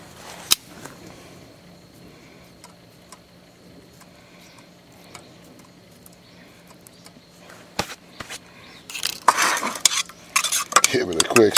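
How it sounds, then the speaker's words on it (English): A spoon stirs beanie weenie in a pot, with soft scraping and light clinks early on, then louder, busier clattering and scraping near the end. "Give it a quick stir."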